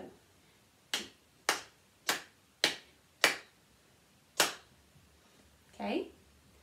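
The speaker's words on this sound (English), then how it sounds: "See if you can clap your rhythm pattern at the same time as mine." Hands clap a rhythm pattern in a beginner music lesson: six sharp, close claps at uneven spacing, a gap, then a brief voiced sound at the end.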